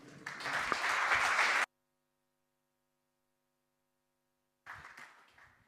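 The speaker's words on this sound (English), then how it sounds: "Please give a big round of applause to Paul Maroldt." A crowd at a robotics get-together applauds a speaker being introduced, a loud burst of dense clapping that cuts off abruptly into silence, then resumes more quietly and fades.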